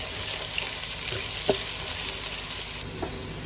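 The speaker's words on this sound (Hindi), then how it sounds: "अब इस मौके के ऊपर हमने एक प्याज डाल देना है, और इसको हमने ब्राउन नहीं करना, सोते करना है।" Onion sautéing in a pan for Karachi-style karahi gives a steady, close sizzle with soft stirring scrapes and a few brief clinks, no talking.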